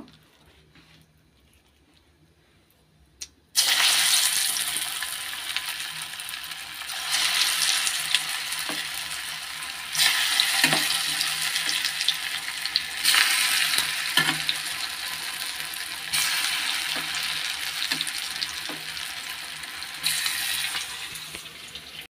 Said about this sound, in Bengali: তো চলো এখন পকোড়াটা আমি করে নিই